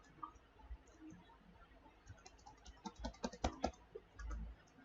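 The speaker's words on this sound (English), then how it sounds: "now I'm going to type my PHP code" Typing PHP code on a computer keyboard: faint, scattered key clicks that pick up into a brief quicker flurry, with a couple of soft thumps, heard quietly without speech.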